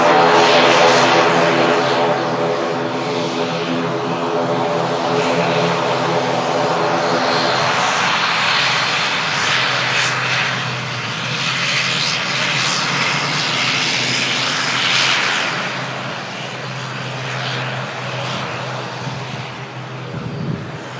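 An aircraft taxiing fast at an airport, with a propeller-driven Pilatus holding nearby, gives a loud engine drone whose steady whine shifts and swells as it moves past, then eases slightly toward the end; no speech.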